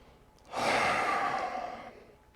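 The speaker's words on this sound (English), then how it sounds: "Breathing in deeply." A single deep breath during a yoga session, a close, airy exhalation that swells quickly and fades out over about a second and a half, alone in a quiet room.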